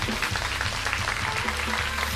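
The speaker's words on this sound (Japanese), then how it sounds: "もう一度大きな拍手をお願いします。" At a live concert stage, audience applause rolls on in a dense, steady burst of clapping, moderately loud and without talk for a couple of seconds.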